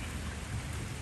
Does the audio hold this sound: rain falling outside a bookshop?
yes